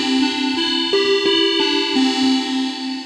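A manually dialed-up patch on an Oberheim synthesizer plays a bright, rich, sustained tone, stepping through a few held notes and chords with sharp changes. It is loud and close, with no voices.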